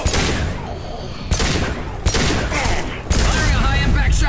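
Gunfire in the video game Mass Effect 2: loud, close bursts of rapid shots and sharp impacts, with a voice speaking between the volleys.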